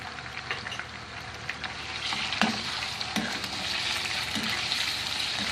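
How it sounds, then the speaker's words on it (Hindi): Ginger garlic paste frying in oil with chicken pieces in a pan, a close, continuous sizzle broken by several sharp clacks and scrapes of stirring, with no talk over it. "इसको हम 3-4 मिनट इसमें फ्राई करेंगे ऑयल में"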